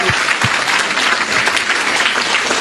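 A seminar audience gives a sustained round of applause for two guest speakers, dense and steady clapping filling the room throughout.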